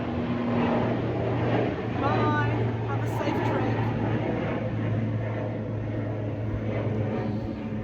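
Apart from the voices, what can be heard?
airplane flying over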